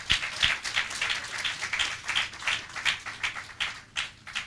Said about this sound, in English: Did you give her an applause?